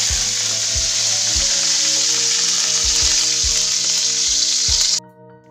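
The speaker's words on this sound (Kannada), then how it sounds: "ಇವಾಗ ಸಾಸಿವೆ ಚಟಪಟ ಅಂದ ನಂತರ ಅದಕ್ಕೆ ಕರಿಬೇವನ್ನು ಆ್ಯಡ್ ಮಾಡಿ" Mustard seeds and curry leaves sputter and crackle steadily in hot oil for a Kannada-style tempering with crushed garlic, a dense sizzle broken by sharp pops, close and loud, with no talking before it cuts off abruptly near the end.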